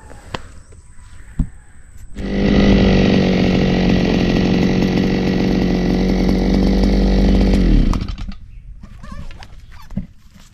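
A small engine of a grass cutter starts up and runs at a loud, steady high whine for about six seconds, then cuts off abruptly, with faint knocks around it.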